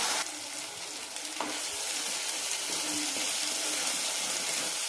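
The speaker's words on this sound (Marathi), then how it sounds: "तर हे छान आपण परतून घेऊ." Ground roasted onion paste sautés in hot oil for a Marathwada-style mutton curry, giving a steady close sizzle that brightens after the first second and holds evenly to the end, with no talking.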